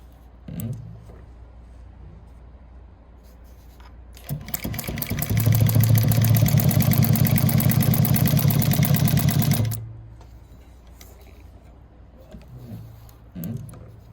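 A Juki DNU 1541S industrial sewing machine running fast and steady for about five seconds while winding a bobbin, a loud close whirring hum that stops abruptly, with quiet clicks and handling noises before and after.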